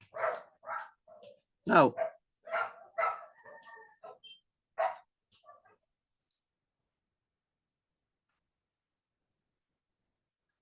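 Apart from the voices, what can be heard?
dogs barking and fighting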